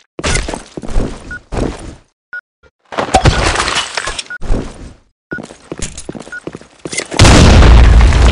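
Bomb blast in the online shooter BlackShot, heard among scattered game sounds and breaking, shattering bursts, ending in a loud sustained roar of explosion noise.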